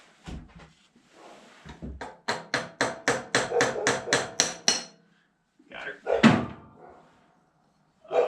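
A rapid series of about ten sharp metallic taps in steady rhythm from a small hammer knocking a cap off during an oil change on a 1957 Chevy, with a person talking briefly before and after.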